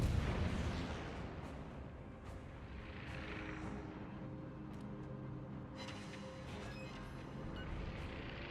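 Naval artillery rumbles in a World of Warships game, opening with a heavy boom, followed by a continuous low roar, scattered distant thuds and a few sharp cracks, all at a fairly faint overall level.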